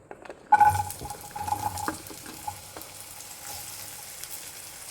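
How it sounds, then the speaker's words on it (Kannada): Ridge gourd pieces dropped into a little hot oil, bursting into a loud sizzle after a quiet start, then settling to a softer steady crackle with scattered pops. "ಸ್ವಲ್ಪ ಎಣ್ಣೆ ಹಾಕೋದು ಇಷ್ಟು. ಈಗ ಮೊದಲು ಏನು ಹಾಕ್ತೀನಿ ಅಂದ್ರೆ ಇವು ಹೀರೆಕಾಯಿ ಹಾಕ್ತೀನಿ"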